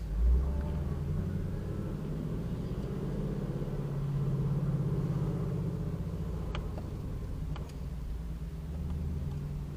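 A car rolls slowly at a race track, a low steady engine rumble with a slight rise in the middle, close and continuous, with a faint tick or two later on.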